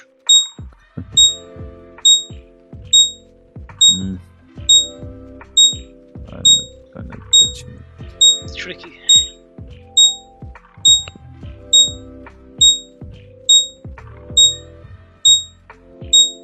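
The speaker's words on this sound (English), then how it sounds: "Oh, the alarm is on." An alarm beeps on a steady repeating cycle, one short high tone about every second, running throughout while people talk over it indoors with occasional thumps.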